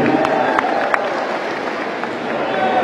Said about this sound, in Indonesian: Beri tepuk tangan untuk para relawan semua yang hadir.